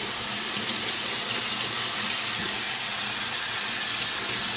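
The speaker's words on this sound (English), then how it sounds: "And you'll want to rinse these in cold water." Cold tap water runs steadily over cucumbers being rinsed for bread and butter pickles, a loud, even gushing stream lasting the whole stretch with no voices.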